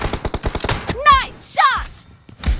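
Rapid bursts of gunfire from PUBG Mobile with an Uzi, a fast string of sharp close shots followed by pauses, mixed with whooshing effects and a few more shots at the end.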